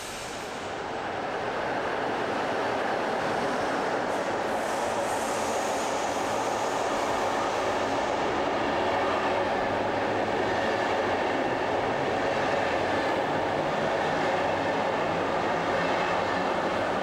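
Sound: class 112.1 train rolling through Berlin-Friedrichstraße station

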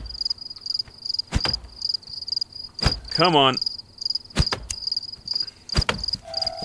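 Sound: crickets chirping at night in video game

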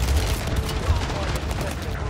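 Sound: MW2 AK rifle gunfire in Warzone video game

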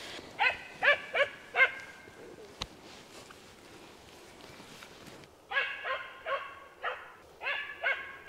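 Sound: dog barking outdoors

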